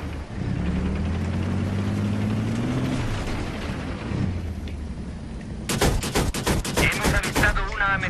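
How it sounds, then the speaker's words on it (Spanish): Machine gun fire in Battlefield 3 multiplayer, a rapid rhythmic burst of sharp, loud shots near the end after a stretch of engine-like rumble and background combat noise, with a radio voice speaking. "Ametralladora enemiga en vuestra zona de operaciones."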